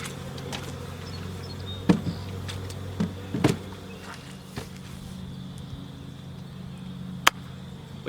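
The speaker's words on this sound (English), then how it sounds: "There are bees up in here," Honeybees hum steadily and softly around a hive, a low continuous drone with scattered knocks and bumps over it.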